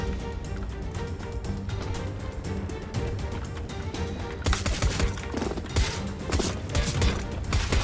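Video-game gunfire crackles in dense, rapid bursts of shots that grow louder and harsher midway, with a continuous busy background and no clear talk.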